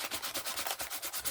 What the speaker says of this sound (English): sanding block all around the edge to take off the Mod Podge from that area.